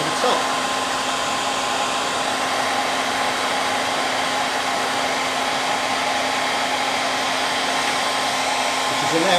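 A heat gun blows steadily and loudly throughout, heating a tank to free it where it is stuck at the bottom, a constant airy roar with a faint hum beneath and no talking.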